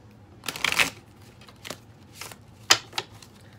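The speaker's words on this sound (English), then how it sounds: "One more shuffle." A tarot card deck is shuffled up close in a few quick riffling bursts, the first long and crisp, followed by shorter flicks and taps against a quiet room.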